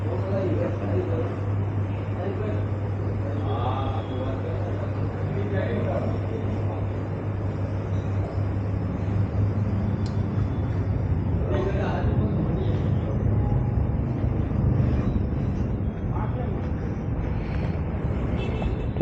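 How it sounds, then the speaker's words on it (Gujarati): A Yamaha motorcycle stands idling in neutral, its engine giving a steady, close, low drone throughout, with some faint background noise and a voice speaking over it in places. "ન્યુટ્રલ ગાડી, ઊભેલી ગાડીનો અવાજ છે."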